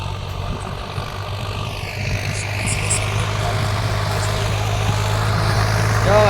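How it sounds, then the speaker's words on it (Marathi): A tractor engine ploughing a field, a steady, droning run throughout, low and heavy, growing slightly louder toward the end, with no talking. "सध्या पाळीला चालू आहे बघा कसं लागतं बघा ट्रॅक्टर"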